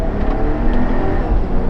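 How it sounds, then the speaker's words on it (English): Turbocharged engine of a 2024 Ineos Grenadier pulling hard under acceleration, a steady close-up drone with whirring tone from inside the moving vehicle, no talking. "You can hear that turbo."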